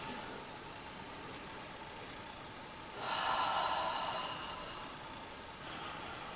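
Slow, smooth breath drawn in through the nose and let out through the mouth during a hatha yoga pause: a faint, soft airy exhale swelling briefly in the middle, close and alone over low hiss.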